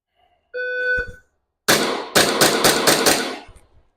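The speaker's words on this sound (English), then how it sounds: "You see me take the recoil pistol, do my shooting." A recoil pistol fired during a beginner shooting drill: after a short electronic beep, a rapid string of about six loud, close cracks rings out in quick succession, then fades.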